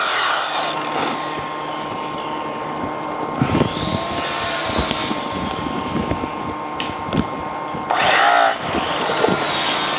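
An angle grinder works a pitted metal cattle bumper in a shop, giving a continuous high whine that swells into louder bursts of abrasive contact. The tone holds steady at close range.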